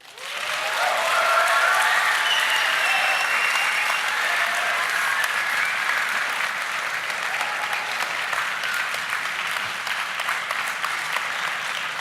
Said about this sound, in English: The applause says it all.